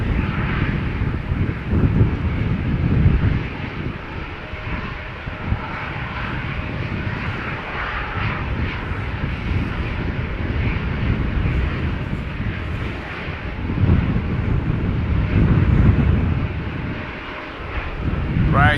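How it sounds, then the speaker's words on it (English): A KLM Boeing 737-700 takes off at Schiphol Airport, its jet engines giving a steady, loud roar that swells around the middle and again near the end, with wind buffeting and faint voices underneath. "This one is going. KLM flight 1075, outbound Manchester 737-700."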